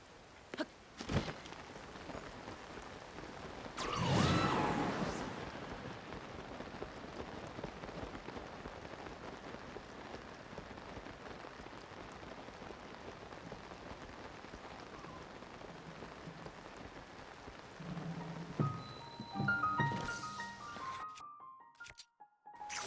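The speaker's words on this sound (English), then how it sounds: "Shit, it's raining." Rain falls in The Legend of Zelda: Tears of the Kingdom as a steady, soft patter and hiss that runs for about twenty seconds, with a louder gust near the start and a few faint tones near the end.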